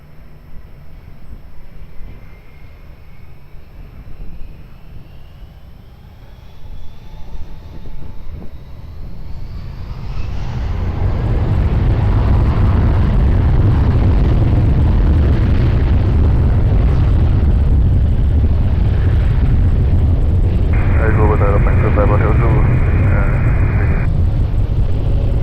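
Jet airliner taking off from runway 20 at Lisbon Airport: a faint distant engine whine swells after about ten seconds into a loud, sustained broadband roar that holds steady to the end.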